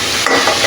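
Spice paste is stir-fried in oil for an egg and potato curry, giving a brief, loud, close sizzle and stirring noise.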